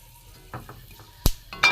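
Whole cardamom pods, cloves and cinnamon dropped into hot reused oil give a faint sizzle with soft crackles and a sharp pop or spatter partway through, close by with no talking.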